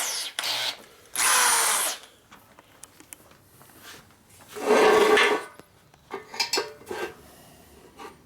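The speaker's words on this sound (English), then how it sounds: "Most of the work was done by the drill until it decided to be working." A power drill works on a clutch or primary part of a 1972 Harley-Davidson XL Ironhead Sportster bobber, with two loud whirring bursts plus shorter spurts and scattered metallic clinks and taps of tools and parts between them.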